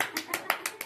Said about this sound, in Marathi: वाव टाळ्या वाजवा